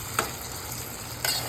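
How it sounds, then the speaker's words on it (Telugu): Ginger garlic paste frying in hot oil gives a steady, moderate sizzle throughout, with two brief louder clinks or scrapes of a spoon stirring the pan and no voices. "అల్లం వెల్లుల్లి పేస్ట్ బాగా వేపాలండి"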